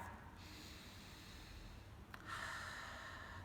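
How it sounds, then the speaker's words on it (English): A single deep breath drawn in through the nose, faint and close, with a soft rushing inhale rising toward the end. "take a deep breath"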